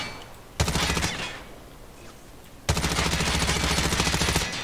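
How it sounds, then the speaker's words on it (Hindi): Two bursts of rapid automatic gunfire in Call of Duty Mobile, loud and close, a short half-second volley followed by a longer two-second stream, with no talk over them. "अच्छा इसमें अगर मैं गोली मारूं"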